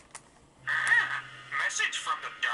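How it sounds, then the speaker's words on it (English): A mobile phone sounds a message notification, a short voice-like electronic alert with a low steady hum beneath, heard close and fairly loud in an indoor room. "That's my phone."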